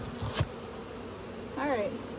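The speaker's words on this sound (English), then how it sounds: "there's still bees like all like chilling on the outside of that hive over there" Honey bees buzz steadily around a hive in a low, continuous drone, with a brief sharp knock near the start and a faint rising whine toward the end.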